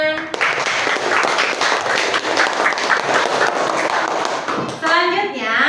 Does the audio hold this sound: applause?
yes